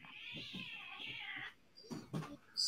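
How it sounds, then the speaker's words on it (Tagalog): Two cats fight close by, starting with a long, wavering yowl, then a few short snarling bursts and hisses after a brief pause, with no one talking. "Nag-aaway mga pusa."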